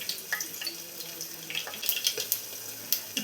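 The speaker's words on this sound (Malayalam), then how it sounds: "ഇപ്പോൾ കടുക് പൊട്ടി വന്നിട്ടുണ്ട്." Mustard seeds spluttering in hot coconut oil in a pan, soft irregular crackles and pops, faint and close, with no talking.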